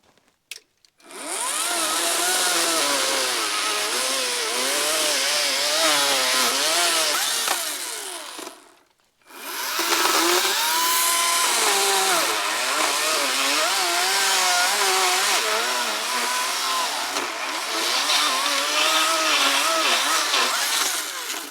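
A battery-powered chainsaw with a dull chain cuts trees on an off-grid property in northern Arizona, whining loudly and steadily for several seconds, pausing briefly, then cutting again with a wavering, laboring pitch.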